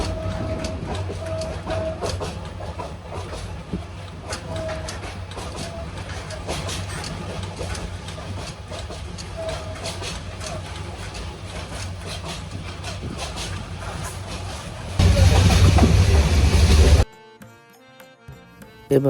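The Bijoy Express passenger train between Chattogram and Jamalpur, Bangladesh, rumbles steadily along with a continuous low drone and rattling, growing louder and harsher near the end before cutting off abruptly.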